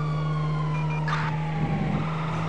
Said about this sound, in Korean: 아, 왜 이렇게 많아, 경찰차가!